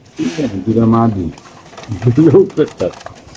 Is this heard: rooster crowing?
no